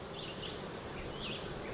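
Honeybees buzz in a steady, dense drone at an opened hive whose frames hold eggs from a mated queen, a continuous close hum with no voices.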